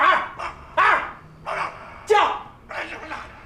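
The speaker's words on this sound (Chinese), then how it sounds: "啥破狗叫什么玩意儿呢？ 大半夜搁这嗷嗷叫" A dog barks and yelps at night in a Chinese costume drama, giving about six sharp, uneven bursts separated by short pauses. The barks are close and fairly loud.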